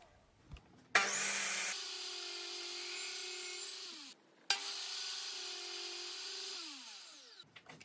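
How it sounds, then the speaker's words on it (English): Table saw cutting the shoulder of a wooden tenon, the workpiece held in a spline box with two clamps: two sustained loud cuts, each starting with a sharp bite, steady high whine under the blade, a brief gap between passes. "I will cut the shoulder on the table saw using my spline box and held together with two clamps."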